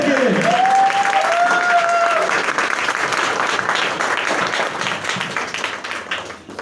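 An audience at a motivational speech rises in a standing ovation, its thick clapping swelling right after a brief spoken line and then rolling on steadily before tapering slightly toward the end.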